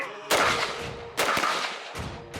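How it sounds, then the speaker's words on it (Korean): Three sharp gunshots crack out about a second apart, loud and close with echoing tails, warning fire from a South Korean army reconnaissance team of the 3rd Division during a training operation. "대상을 직접 겨냥하지 않는 경고 사격을 실시합니다"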